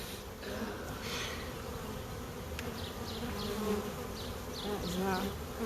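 Honey bees buzz steadily around an open hive during an inspection of capped brood, a dense continuous drone filling the whole stretch at close range with no talking.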